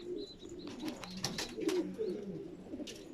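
Several pigeons in a loft, black-headed birds among them, coo in soft rolling bursts close by, with a few higher chirps scattered over the calls and no talking.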